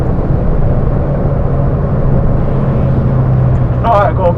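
A cheap stock car engine drones steadily at close range on a race track, loud and unbroken, with a short burst of speech near the end.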